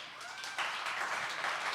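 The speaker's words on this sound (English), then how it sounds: "So give them a big applause." A short burst of applause from a crowd at a live music show, clapping rising suddenly and holding steady for a moment.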